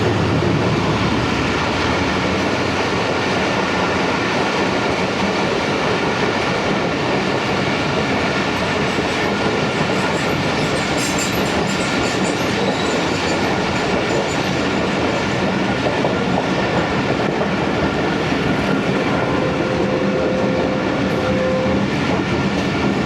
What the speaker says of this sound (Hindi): अब कराची एक्सप्रेस भी इधर मौजूद है और निकल रही है यहाँ से।